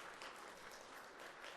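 A church congregation at a Korean Easter Sunday service claps to welcome a returning deacon, a soft, even wash of applause heard from a distance and fairly faint.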